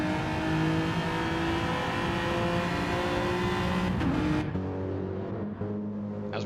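A race car in Gran Turismo 7 at Daytona accelerates hard out of a corner onto the straight, its engine note loud and sustained with rising harmonics, then a sharp gear change and a lower, steadier drone near the end.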